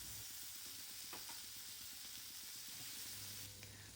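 Koi fish pieces frying in hot oil until golden brown, sizzling and crackling in a steady close-up fry with faint scraping movements now and then.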